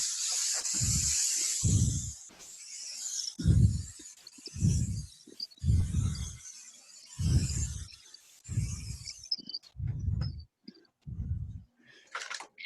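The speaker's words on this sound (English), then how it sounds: "And I use a big spray gun. Now, I keep lacquer in it all the time." A big spray gun sprays lacquer onto woodturnings in a workshop, giving repeated bursts of loud hissing spray, each about a second long and separated by short pauses, close to the listener.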